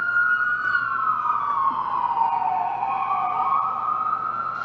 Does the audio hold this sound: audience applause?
no